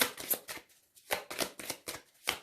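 A deck of tarot cards is cut and handled close by, with quick papery riffles and slaps in a rhythmic series of short bursts separated by brief pauses.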